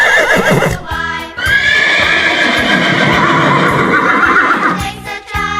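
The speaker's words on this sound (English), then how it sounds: "Horse." A horse whinnies loudly and close, with a long wavering neigh and a few hoof clip-clops behind it, set inside a children's farm-animal song.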